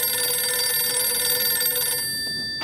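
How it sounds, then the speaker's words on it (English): A telephone rings in an episode of Doctor Who, its bright, steady electronic trill sounding continuously before cutting off abruptly near the end, alone with no talk. "What am I supposed to do with a ringing phone?"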